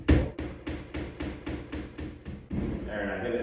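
A finish nail is tapped into a ceiling to locate the edges of a joist. About nine quick, evenly spaced hammer taps sound up close, then a short stretch of quieter room noise follows.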